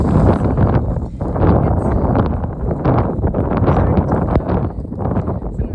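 Gusty wind buffeting the microphone over a raked hayfield with alfalfa, loud low rumbling blasts and rustling swells that surge and ease throughout, no talk.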